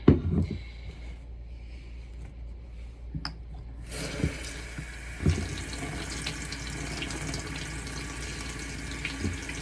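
A bathroom sink tap runs steadily as water splashes while a face is washed, starting quietly after a few faint clicks and then flowing continuously at close range with occasional splashes.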